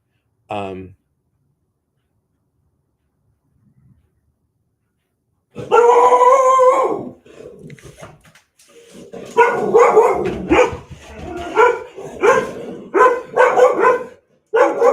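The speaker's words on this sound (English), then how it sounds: "Willow's going to bark in a second because people are walking past the house." A dog named Willow barks indoors at people walking past the house, one short bark first and then a long run of loud, repeated barks after a pause.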